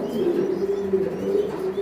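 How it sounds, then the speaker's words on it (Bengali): Racer pigeons at a large breeding farm giving a continuous low, rolling coo, close and steady, with no talking. "দেখেন এই যে দেখেন কতটা কোয়ালিটি ফুল কবুতর"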